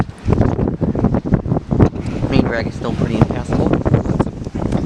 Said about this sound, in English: Ooh, that's a big gust of wind.